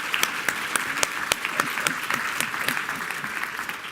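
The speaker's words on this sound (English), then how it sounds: "please give them all a big round of applause" Applause from a conference audience on cleantech, a steady patter of many hands clapping loudly and continuously, close and filling the space.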